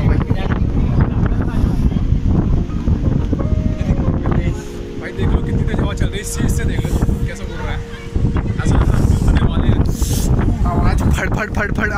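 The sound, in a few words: strong wind blowing on a hill, wind noise on microphone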